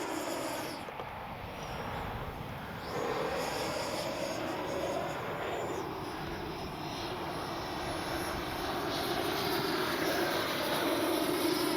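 FMS Avanti S 90mm electric ducted-fan RC jet in flight, a steady whooshing turbine-like roar that stays loud and continuous throughout, with slight swells as the model climbs and passes overhead outdoors.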